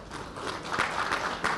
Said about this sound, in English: I think everybody needs clapping for this